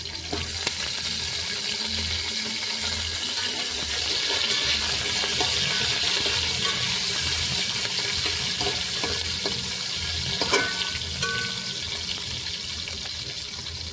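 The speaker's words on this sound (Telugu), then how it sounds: "కొద్దిగా ఉల్లిపాయ ముక్కలు మగ్గించాలి" Onion pieces sautéing in a pan for sambar, a steady broadband sizzle with faint stirring and clinks running continuously at close range, no talk.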